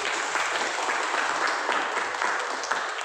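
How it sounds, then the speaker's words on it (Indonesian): Classmates give a presentation group a round of applause, a thick burst of many hands clapping close by, loud and sustained for the whole stretch. "Berikan tepuk tangan kepada kelompok."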